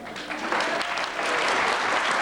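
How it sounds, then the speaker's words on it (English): An audience breaks into warm applause for family members being introduced at John Kenneth Galbraith's 90th birthday celebration: a dense, steady patter of many hands that swells and holds for a couple of seconds. "let's applaud them when all of the names have been called"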